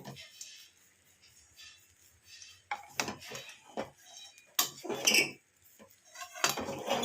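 A wooden spatula stirs rice pulao in a metal pot, making irregular knocks, scrapes and clinks, some quiet and some sharper, with brief pauses between strokes.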